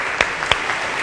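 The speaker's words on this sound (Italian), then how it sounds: "un applauso." A crowd in a town square applauds during a celebration of the Lecce football club's promotion to Serie A. A steady wash of clapping and cheering fills the space, with a couple of sharper bursts standing out.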